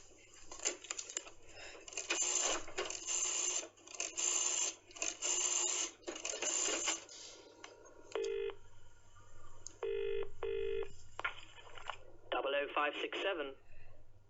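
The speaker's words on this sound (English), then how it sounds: "I just need to make a phone call." Telephone dialing in an audio drama: a rapid run of touch-tone beeps followed by a few separate longer dial tones, close and clear over a faint hum.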